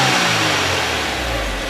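A black Kia car engine revs loudly and steadily up close, a sustained droning roar with no talking over it.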